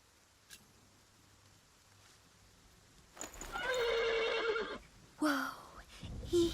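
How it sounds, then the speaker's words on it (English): A horse neighs loudly and close, a long whinny followed by a second shorter one, after a quiet stretch of low background hum. "The horse nearly woke the guard."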